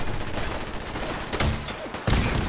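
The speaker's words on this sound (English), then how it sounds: "Hold on, we just gonna keep firing these cannons." Ship cannons in Fallout 4 fire in a rapid, dense barrage of loud booming blasts, one overlapping the next with no pause, ending in a sharp final burst.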